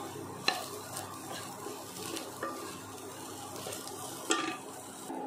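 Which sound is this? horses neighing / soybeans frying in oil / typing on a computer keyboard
soybeans frying in oil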